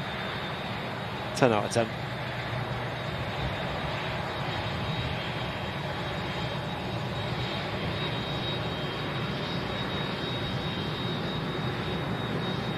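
Airbus A380 jet airliner taxiing past at an airport, a loud steady broadband engine roar with a whining tone that holds throughout, while someone talks over it near the start.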